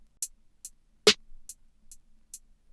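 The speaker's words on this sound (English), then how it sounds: "Then next the snare," Snare drum in a trapsoul beat made in FL Studio, cracking hard twice on the backbeat while light hi-hat ticks fill the gaps between hits.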